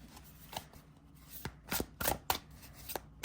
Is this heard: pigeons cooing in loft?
no